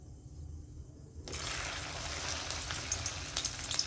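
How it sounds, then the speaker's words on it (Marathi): A quiet hum gives way to a sudden burst of loud sizzling as okra hits hot oil, then steady crackling frying continues close by. "आता आपण भेंडीला फ्राय करून घेऊ तेलामध्ये"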